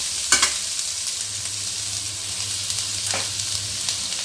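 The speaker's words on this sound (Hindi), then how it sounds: "अब हमने प्याज को इसमें डालना है कढ़ाई में और अच्छे से हिलाना है" Sliced onions frying in a kadai for a stuffed karela and onion sabji, a steady close sizzle with a couple of brief scraping stirs, no voices.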